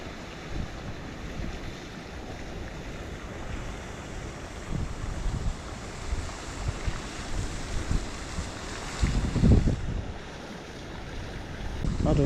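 Strong, gusty wind blows by a river during winter grayling fishing, a steady broad roar with louder buffeting surges and no talk.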